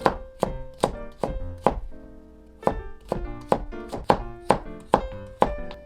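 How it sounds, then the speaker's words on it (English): A kitchen knife dices carrot strips on a cutting board in close, crisp chops, a quick run of about five, a pause, then a steady series of evenly spaced thunks. "line up the strips side by side and cut them into small diced pieces"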